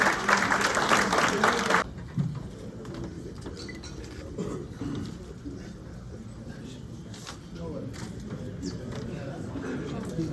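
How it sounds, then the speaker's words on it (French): Applause from the audience at the African Leadership Awards ceremony in New York, a dense burst of clapping for about two seconds that quickly falls away into a low room murmur with scattered faint claps. "On peut l'accompagner avec les applaudissements"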